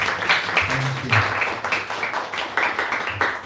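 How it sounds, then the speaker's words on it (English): Audience applause welcoming a guest speaker at a Hindu mandir event, with dense, steady clapping and some mixed voices running throughout at a moderate level. "Please give her a big round of applause to welcome her."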